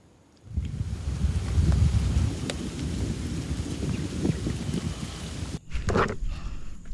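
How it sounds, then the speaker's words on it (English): Heavy rain pours down on a mountain lake in a storm, a dense, rumbling roar with gusty wind buffeting the microphone, briefly dipping before surging again. "the rain just came pouring down again"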